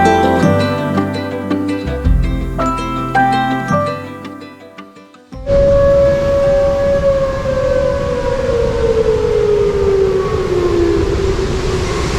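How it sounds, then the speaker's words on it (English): Music plays, then a loud civil defense siren test takes over near North Cascades National Park, wailing in one long sustained tone that slowly drops in pitch. "the testing of their siren system, probably for fires"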